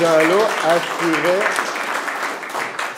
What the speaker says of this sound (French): Fait qu'aujourd'hui, on va les applaudir.